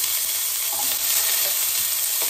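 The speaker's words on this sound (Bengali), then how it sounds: "ওর মধ্যে ছোট করে কেটে রাখা আলু দিয়ে দেবো, দিয়ে ভালো করে নাড়াচাড়া করে নেব" Chopped potatoes fry with nigella seeds and dried chilli in a pan while being stirred, giving a steady close sizzle with soft scraping throughout.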